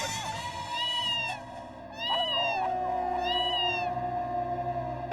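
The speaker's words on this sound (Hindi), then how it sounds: "बिल्ली!" A cat meows in a long drawn-out wail and repeats it several times, loud and close, with rising and falling pitch and a faint murmur behind it.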